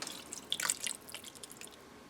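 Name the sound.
pouring a cup of water into pressure cooker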